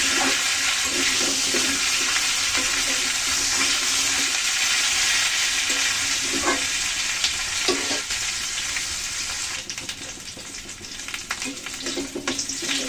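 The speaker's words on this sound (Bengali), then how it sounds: "এগুলোকে সুন্দর করে লাল লাল করে ভেজে নেব" Vegetables frying in oil in a pan for a cauliflower, potato and tomato fish curry, a steady loud sizzle with occasional stirring clinks, continuous and close.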